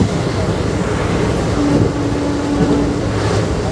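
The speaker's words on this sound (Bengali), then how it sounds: "বর্ধমান থেকে ট্রেন ছাড়ার পর ট্রেন তার ফুল স্পিড নিয়ে নিয়েছে" Maa Tara Express train running at full speed after leaving Bardhaman: a steady, loud, continuous rumble of wheels and carriage noise, with a brief tonal whine partway through.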